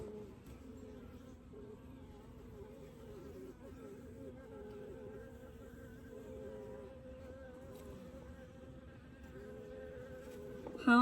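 Honey bees buzz steadily throughout an inspection of a 20-frame Layens horizontal hive, a dense, continuous hum close by with a brief louder burst at the very end.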